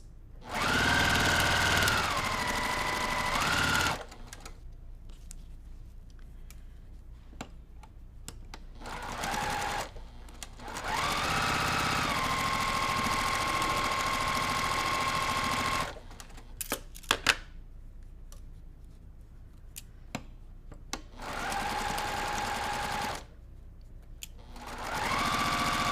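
Sewing machine stitching quilt fabric in long, loud, steady whirring runs of a few seconds each, separated by quiet pauses with small clicks and handling noises, heard up close.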